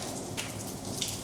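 Steady rain falls on the streets of Kotor Old Town, a dense, even hiss of drops hitting surfaces nearby, with a few slightly louder splashes and no voices.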